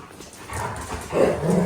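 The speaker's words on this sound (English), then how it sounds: "The dogs think they're going. That's why they're very excited." Excited dogs whimper and yip nearby as people pack for a hike through deep fresh snow to an off-grid cabin, with rising, whining cries building toward the end.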